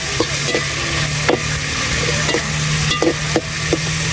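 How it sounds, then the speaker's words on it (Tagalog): Chopped tomatoes sauté in a hot oiled pan, a steady loud sizzle broken by regular scraping stirs of a utensil every half second or so, close up with no talking. "Gisain muna natin yung kamatis para lumabas yung ano niya, yung sarap ng kamatis pag ginigisa."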